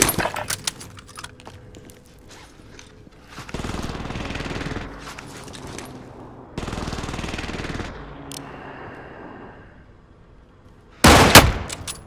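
Gunfire in the Call of Duty: Modern Warfare game: rapid shots open the clip, then long sustained automatic bursts come in separate stretches, loud and near, with a final sharp volley near the end and almost no talk.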